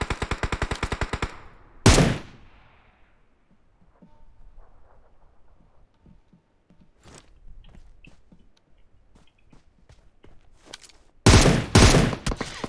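A DP-28 machine gun fires in PUBG Mobile: a loud close burst of rapid evenly spaced shots opens, then sparse scattered distant pops, and a heavy final burst of fire returns near the end.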